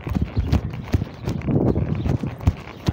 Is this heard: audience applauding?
no